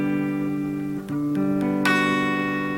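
Electric guitar strumming a sustained chord with the first string picked harder, ringing steadily, then a brighter restrike near the end; played alone with no talk.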